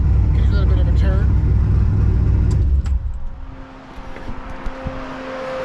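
A turbocharged LSX engine idles after an idle adjustment, a loud, close, steady rumble that drops away partway through and leaves a quieter hum with faint ticks, while a person talks over it.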